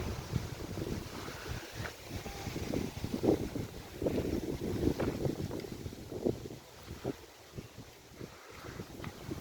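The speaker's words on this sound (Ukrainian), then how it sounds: "Сильний вітер." Gusty wind buffets the microphone in rough, uneven bursts, with a low rumbling roar throughout and no voices.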